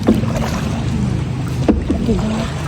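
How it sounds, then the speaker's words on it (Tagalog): A small boat moving through flood water, heard close up as a loud, constant motor drone and water wash with wind buffeting the microphone and a few faint voices. "Babangka tayo kasi wala na talagang way para makauwi kung hindi ang magbangkay."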